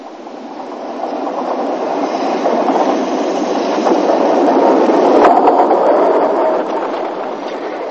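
A narrow gauge steam train rumbles past close by in the countryside, a steady loud roar of wheels on rails that swells and then eases slightly near the end.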